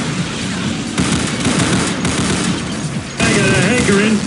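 Gunfire fills a deathmatch in Unreal Tournament 2004 played with the Ballistic Weapons mod: dense, rattling bursts of shots and booms in quick succession, loud and continuous, with a sharper burst near the end.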